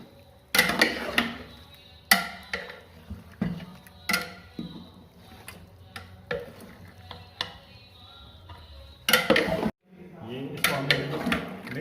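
A spoon stirs dry green mutton masala in a cooking pot with repeated loud scraping clanks, close and irregular, with a brief sizzle between strokes and a pause near the end, with no talking.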